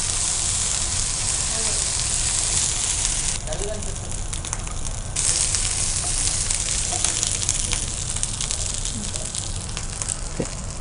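Baby corn vadas fry in hot oil, giving a steady, dense sizzle and crackle that runs the whole time at a moderate level.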